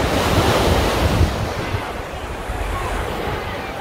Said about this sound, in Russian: Здесь, кстати, самая высокая волна